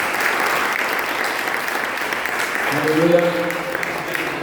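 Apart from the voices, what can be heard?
church congregation applauding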